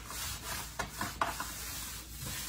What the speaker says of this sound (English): I just scored along the back side so that this would lay flat